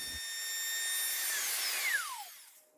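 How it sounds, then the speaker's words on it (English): A router fitted with a 45 degree chamfer bit trims the edges of wood for a minimalist waterfall coffee table, its high whine holding steady and then winding down near the end, moderately loud with no talk. "use a 45 degree chamfer router bit and just trim each of the edges"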